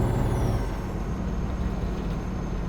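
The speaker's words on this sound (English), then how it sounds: "we'll use a little bit of Jake brake here. You can hear it." A heavy truck's Jake brake gives a steady low rumbling drone in American Truck Simulator, continuous and fairly loud with no talking over it.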